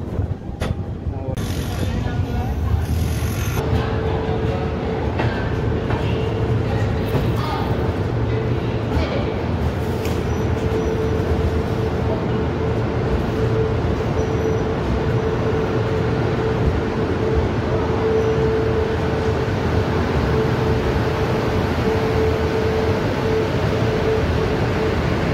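Inside the Duranto Express 12245 between Howrah and Bangalore, the train runs with a steady rumbling roar and rattle of carriages, a faint sustained hum riding over it, continuous throughout with brief knocks near the start.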